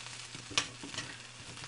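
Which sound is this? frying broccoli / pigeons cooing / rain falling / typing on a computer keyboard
frying broccoli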